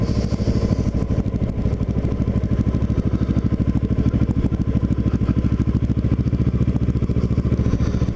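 Kawasaki Ninja motorcycle ridden around the Villas in Lower Township in January, its engine droning loud and steady with a rapid pulsing throb throughout, no voices over it.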